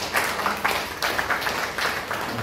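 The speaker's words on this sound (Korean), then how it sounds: "박수 한번 보내주시죠" Brief audience applause at a public forum, a moderate crowd clapping in uneven bursts that swell and dip over a couple of seconds, fairly close and without talk.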